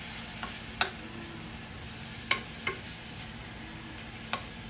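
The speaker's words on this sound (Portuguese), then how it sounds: "Nós vamos entrar com a linguiça calabresa aqui e vamos deixar ela dar uma fritada junto com a cebola e o alho." Calabresa sausage frying with onion and garlic, a faint steady sizzle broken by a few sharp spoon taps and scrapes against the pan, close but quiet, without speech.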